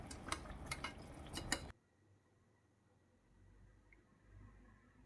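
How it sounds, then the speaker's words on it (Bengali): A metal pressure cooker lid clatters and clinks as it is fitted and locked while chicken biryani cooks, with quick close rattles for under two seconds before a faint low hum takes over. "এবার আমাকে প্রেশার কুকারের ঢাকটাটা কিন্তু আমি আটকে দেবো"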